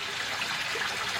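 Water pouring from an Aquascape 19-inch spillway bowl onto its stand, a steady, soft splashing trickle close by with no break and no voices.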